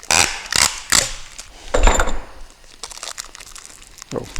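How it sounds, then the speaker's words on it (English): Tape crackles and crinkles as it is pulled and wrapped around an electric motor containing gears, in a series of close, uneven bursts of tearing and rustling with brief pauses between. "So tape this motor together where it cannot come apart"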